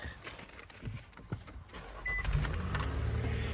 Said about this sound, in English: Start the car right up for us here.